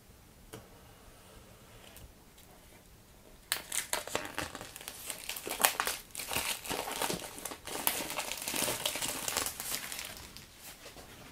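Plastic wrap is crinkled and torn off the box of a Poco F3 phone, quiet and sparse at first, then a dense, loud run of crackling and rustling that goes on for about eight seconds close to the microphone.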